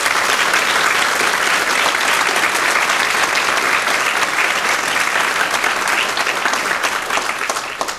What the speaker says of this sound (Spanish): vamos a darle un aplauso a nuestra Madre